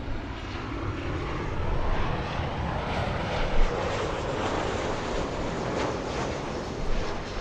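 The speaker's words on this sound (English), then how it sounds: "That's Tiana's Bayou Adventure livery" An airliner in a special livery passes at LAX, giving a continuous broadband jet roar of even loudness. It sounds moderately close, and no voices are heard.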